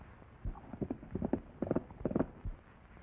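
Horse hooves clip-clop along in a 1934 western film, a run of irregular muffled thuds that bunch into quick pairs and triples at moderate distance, with no voices.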